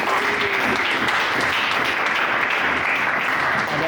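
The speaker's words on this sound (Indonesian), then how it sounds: "Beri tepuk tangan dulu." A classroom group applauds during a university teaching session, dense steady clapping from many hands that fills all four seconds at an even level with no pauses.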